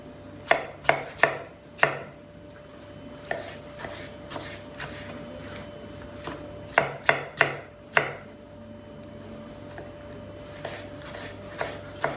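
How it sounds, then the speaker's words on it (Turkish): A knife chops peeled tomatoes on a board in sharp, close strokes that come in quick bursts of three or four, separated by pauses, over a faint steady background hum. "Burada üç tane de soyulmuş domates var. Onu doğruyoruz."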